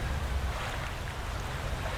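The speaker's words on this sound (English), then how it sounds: "Engine actually sounds different with the turbine." A turbine-fitted boat engine in the fishing video game Dredge gives a steady, soft, droning hum blended with watery wash, continuous and fairly quiet with no talking.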